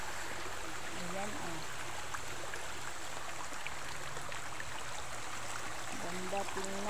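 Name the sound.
small stream flowing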